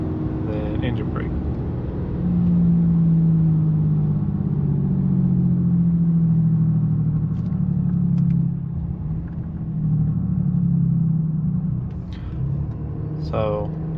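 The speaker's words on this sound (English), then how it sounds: "You can definitely tell a difference with the engine brake side. It whistles a lot louder." Engine braking on a 2023 Ram 2500 with an S&B cold air intake: a loud, sustained low drone that swells and eases over several seconds, heard from inside the cab with faint brief sounds on top.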